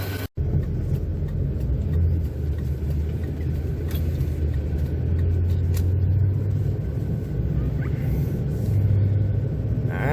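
A warm truck engine idles steadily with a deep, continuous low rumble close by, holding an even level with slight swells throughout and no talking.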